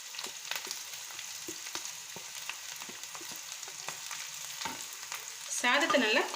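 Cooked rice stir-fried with potato and capsicum crackles in a hot pan, with steady sizzling and repeated spatula scrapes and clinks. Near the end a louder, brighter burst of sizzling rises as fresh rice hits the oil.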